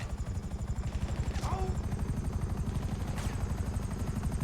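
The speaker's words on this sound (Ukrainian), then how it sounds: "Це що, гелікоптер? Я чую гелікоптер чи що?" A helicopter in Grand Theft Auto V thuds with a fast, steady rotor pulse throughout, fairly faint and mixed with brief game sounds while someone talks over it.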